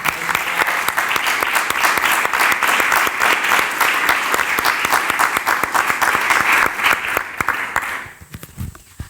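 Audience at a conference hall breaking into sustained applause, many hands clapping close and dense for about eight seconds before it abruptly dies away.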